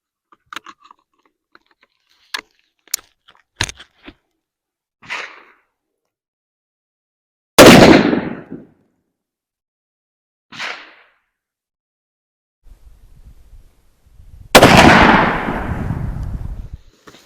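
A CVA Cascade .450 Bushmaster bolt-action rifle firing outdoors: two loud, sharp shots with decaying echo roughly seven seconds apart, preceded by quieter mechanical clicks and handling sounds of the bolt and magazine.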